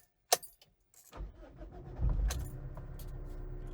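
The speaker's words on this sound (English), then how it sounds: "and then we can start the car." A Mazda CX-7 engine cranks and catches after a short key jingle, then settles into a steady idle that stays fairly close and moderately loud, with no talking.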